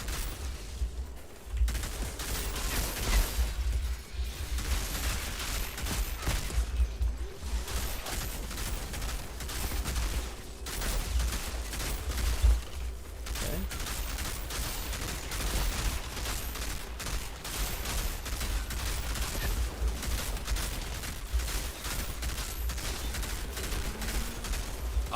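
Continuous weapon fire in the video game Outriders, played as a Technomancer with a cryo turret: a dense, unbroken barrage of shots and impacts lasting many seconds, loud and steady with only short dips.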